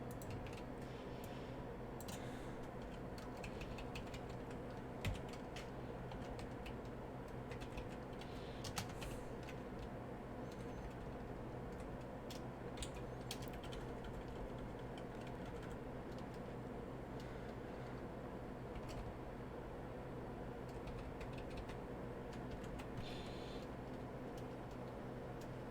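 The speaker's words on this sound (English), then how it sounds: "You can hear the air conditioner." A room air conditioner runs with a steady, low, even hum that stays constant throughout, with occasional faint ticks and clicks and no voices.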